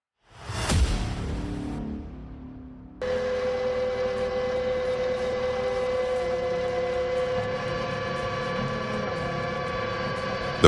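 Langhold Spalt Pioneer 4000 log splitter with a 3.7 kW engine runs with a steady mechanical hum and whirring tones, starting after a short whoosh and holding at an even level throughout.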